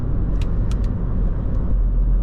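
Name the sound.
Mini Cooper 1.5 engine accelerating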